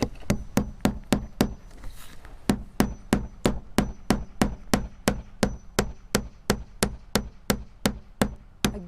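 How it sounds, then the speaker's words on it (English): A steady run of about two dozen hammer blows driving nails into wall siding, each a solid close knock at an even, brisk rhythm with one short pause near the start. "we're gonna start nailing right about in the middle to help hold it"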